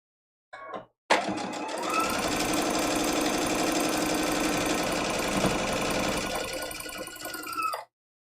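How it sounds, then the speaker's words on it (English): A sewing machine runs steadily for several seconds, stitching off the edge of a quilted hanging trivet block, loud and close, after a brief short burst of stitching at the start. "And we're sewing right off the edge"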